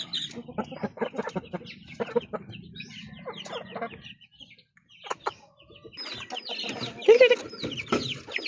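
Several chickens clucking close by, in irregular bursts and cackles with pauses between, loud and unaccompanied by talk.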